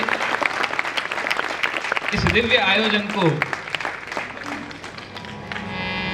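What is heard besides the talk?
audience applause at a religious festival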